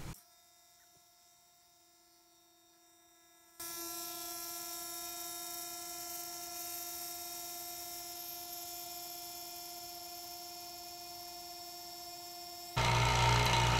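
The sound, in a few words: vacuum pump pulling vacuum for cactus juice resin stabilizing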